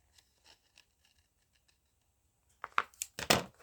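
Scissors snip through folded paper during a papercraft project, a few close, crisp cuts in quick succession after a quiet stretch with only faint handling noise.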